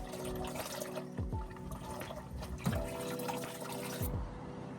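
Engine oil drains steadily from a 2006 Holden VZ Commodore into a catch pan, a continuous close liquid pour and trickle with faint splashes and no talking.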